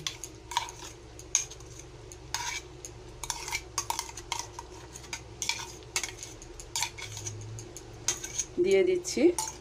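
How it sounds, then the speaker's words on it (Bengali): Mango pulp is stirred into a Gobindobhog rice dessert in a pot, heard as irregular spoon scrapes and clinks against the pan at close range with a faint sizzle underneath, fairly quiet overall. "দিয়ে ওটা আমি ভালো করে মিক্স করে নেব"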